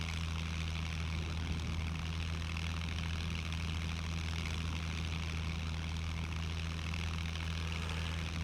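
A steady propeller airplane engine idles or drones at an even pitch in the SCUM survival game, set in the Everglades, a continuous low hum that stays level and fairly faint with no talk over it.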